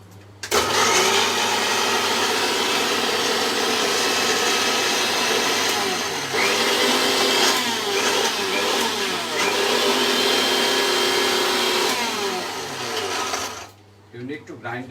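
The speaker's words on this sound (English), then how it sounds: "need to grind it till the time it comes into a smooth powder" An electric mixer grinder grinds spices into powder with a loud, steady whirring roar that runs for about thirteen seconds, then stops abruptly.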